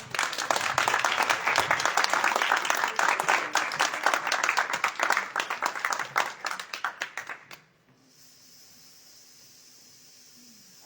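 Audience applause before a stage performance: dense, steady clapping from a crowd that thins into scattered claps and stops near the end, leaving a quiet hum.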